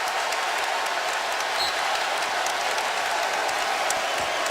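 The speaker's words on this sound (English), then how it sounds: "A Bronx cheer here in Chapel Hill as the call goes against Duke" Bronx cheer from a college basketball crowd in Chapel Hill during a North Carolina versus Duke game, a steady, dense roar of many voices with scattered whistles and claps filling the arena throughout.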